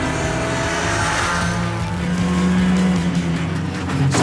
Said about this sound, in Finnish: Oh, ja tää on ralliauto.